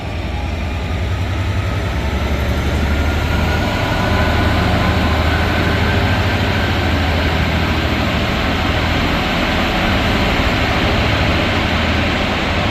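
Locomotive 66308 Signalman Willie Taylor hauls freight 4S57 from Hams Hall to Ross End Euro Terminal through Carlisle, a steady loud low rumble and roar that holds for the whole stretch, with no voices.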